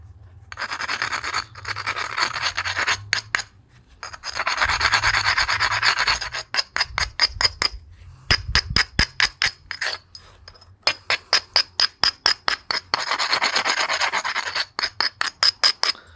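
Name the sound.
abrading black bottle glass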